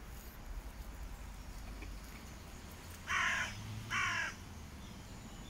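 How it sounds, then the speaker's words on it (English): Two harsh crow caws ring out close together over quiet outdoor background, each about half a second, with a short gap between them. "An angry crow."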